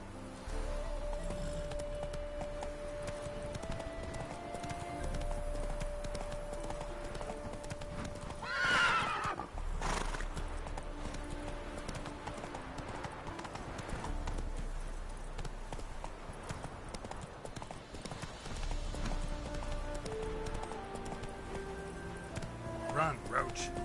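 Roach the horse in The Witcher 3 makes rhythmic clip-clop hoofbeats that speed into a gallop, with a loud neigh partway through and a voice calling out over the hooves.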